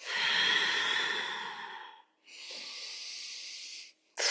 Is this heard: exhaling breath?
yes